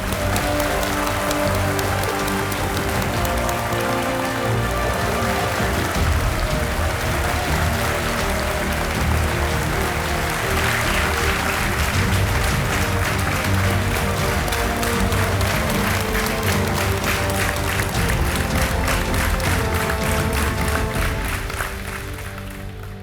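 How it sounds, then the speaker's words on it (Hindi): Studio audience on the game show KBC breaking into sustained, dense applause to welcome a guest, loud and even throughout before tapering at the very end. "मैं चाहता हूं कि तालियों के साथ स्वागत किया जाए राजीव चौहान का।"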